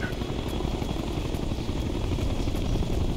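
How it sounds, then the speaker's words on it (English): Helicopter in the Ghost Recon Future Soldier video game, a loud, continuous rotor thrum and engine roar with a steady rhythmic chop throughout and no talking. "Hostiles have a chopper here."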